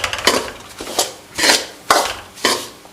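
Semolina roasts in melted desi ghee in a pan over a medium flame, stirred with steady, rhythmic scraping strokes, about five clear passes, close and fairly loud, with no talking.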